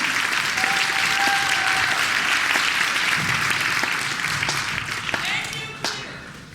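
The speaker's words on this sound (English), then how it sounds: "We're clapping for Vermont." A political rally crowd in Vermont applauds and claps, a dense sustained wash of hands that slowly thins toward the end, with some voices mixed in beneath the clapping.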